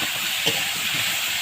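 Vegetables and tomato go into a frying pan with fried radish, turmeric and salt for Bengali pui mitchuri. They give a steady, close hiss of sizzling, alone without talk.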